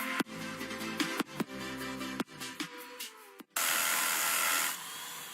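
A Bosch Bulldog rotary hammer drill blasts through concrete in a short run of loud bursts. Sharp hits and stops break up the sound, and it ends in a steady, harsh grinding roar.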